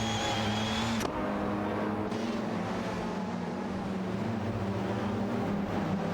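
Peugeot 207 GTI and Infiniti Q50 racing through Eau Rouge in a racing video game, engine tones droning steadily and loudly with sustained harmonic whine and no pauses.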